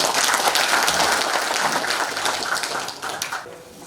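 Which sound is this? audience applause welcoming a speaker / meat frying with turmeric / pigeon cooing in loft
audience applause welcoming a speaker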